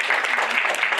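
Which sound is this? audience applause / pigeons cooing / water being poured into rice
audience applause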